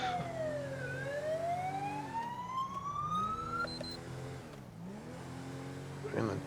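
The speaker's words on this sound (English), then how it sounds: "We're going to drop off our sirens now as we're coming up on the scene" Police car sirens in GTA 5 wail and yelp with sweeping rising and falling tones over a steady engine drone, loud and continuous, with a brief burst of clatter at the end.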